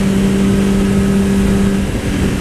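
A Honda CBR600RR motorcycle engine running at a steady, loud, close drone with an even hum and no pauses.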